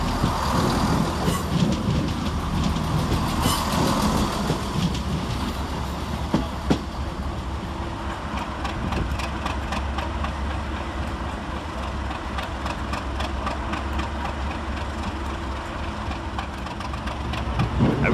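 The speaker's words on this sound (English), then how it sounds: "Another one coming quick around the corner is 168004, working the 1230 Chiltern Railway service from London Marylebone to Birmingham Moor" Chiltern Railways unit 168004 rounds the corner into Leamington Spa station on a London Marylebone to Birmingham Moor Street service. A loud diesel drone carries clattering wheel beats and rail noise, and it stays heavy and close the whole time.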